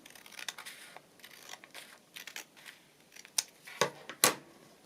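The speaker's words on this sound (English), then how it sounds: "So you need to cut this open along the top here." Scissors snip through paper along the top edge of a handmade autumn journal pocket, giving a series of short, close crisp cuts that end in two louder snips.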